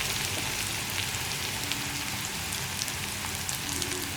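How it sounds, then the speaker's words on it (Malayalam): Curry leaves sputtering in hot oil with onion and garlic give a steady, dense crackle and hiss that stays even throughout, with no voices. "അപ്പോൾ ഞാൻ ഇതിലേക്ക് ആദ്യം കുറച്ച് കറിവേപ്പില ചേർത്ത് കൊടുക്കുകയാണ്"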